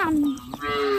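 A village cow gives one drawn-out, low, nasal moo at close range, with a short pause before the call carries on steadily.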